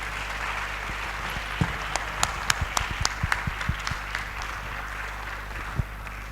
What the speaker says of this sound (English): Ladies and gentlemen, a hand of applause.